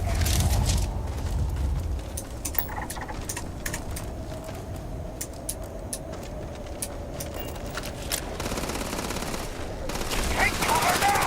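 Gunfire in a firefight in the video game Starfield, with rapid bursts of shots and rattling automatic fire over a steady low rumble. The shooting continues throughout, loud and close, with a few sharper cracks standing out.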